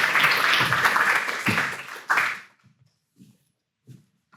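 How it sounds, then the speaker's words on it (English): Audience applause at a community circular economy event, a burst of clapping that fades out after about two and a half seconds, followed by a few faint scattered claps. "And another round of applause for Shannon and Sarah"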